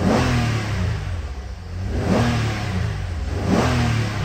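The 3.5L engine of a 2019 Infiniti QX60 revs in a throttle response test, rising in three repeated surges over a steady loud idle, close and with no voices.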